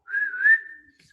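A single person whistles one sustained, slightly wavering note for about a second, close and clear, as a mouth warm-up alongside clicks and other simple sounds.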